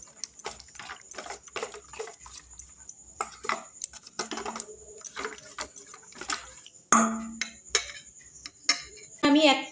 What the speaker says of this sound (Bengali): এবার আমি ভালো করে মিশিয়ে নিচ্ছি।